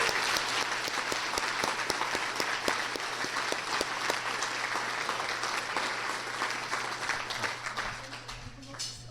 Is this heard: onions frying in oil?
no